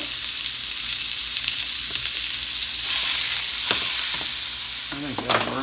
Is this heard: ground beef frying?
yes